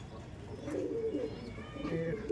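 Madras pigeons coo close by in two soft, throaty rolling phrases, kept in an old loft at a house.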